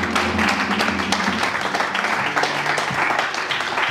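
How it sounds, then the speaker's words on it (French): A church congregation applauding to acclaim the Lord, with dense continuous clapping throughout, loud and close, while a voice briefly talks underneath. "Et là, nous acclamons le Seigneur."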